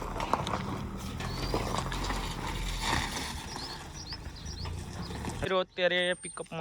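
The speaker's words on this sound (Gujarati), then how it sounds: "અત્યારે પિકઅપમાં જાય છે ઘોડી હારે અને હું આપણે આ રામ પ્યારી લઈને જાઉં છું." A mare's hooves clatter and thud as she is loaded into a pickup truck, a run of uneven knocks and scrapes on metal, close by, ending in a sharp clatter, with outdoor background noise.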